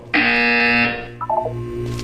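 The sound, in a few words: buzzer in Portal 2 video game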